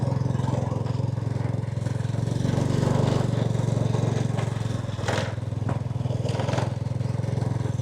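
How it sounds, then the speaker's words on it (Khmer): A motorcycle engine labours as the bike climbs a hill road at Phnom Damrei Romeal in Takeo, a steady, close, throbbing drone that holds without a break. "ម៉ូតូខ្ញុំឡើងអត់ចង់រួចទេ"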